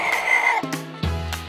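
A chicken clucks in a toy train story, a few short squawking clucks, close and clear against a tonal background.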